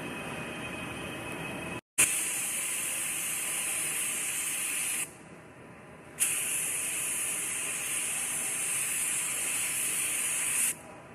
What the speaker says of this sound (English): Now this is adhesion promoter that you want to put on any bare plastic.